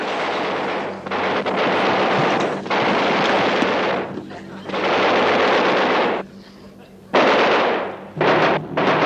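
Sustained bursts of gunfire in a military comedy battle scene, several long rapid volleys separated by short gaps, loud and close with no talking.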